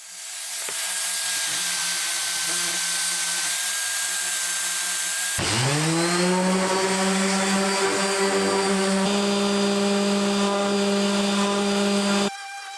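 Small desktop drum sander working wood: a faint steady whir first, then the motor spins up with a rising whine and runs as a loud sustained harmonic hum before cutting off near the end.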